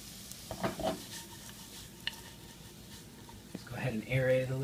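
Potatoes fry in a pan with a faint, steady sizzle and occasional stirring scrapes, nearly buried under someone talking close by.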